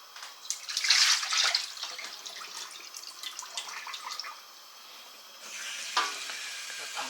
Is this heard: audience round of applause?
no